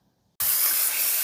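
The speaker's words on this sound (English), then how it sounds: "So I am frying up this sausage." Frozen sausage hits a hot pan and bursts into a loud, steady hiss that starts abruptly and keeps sizzling without pause.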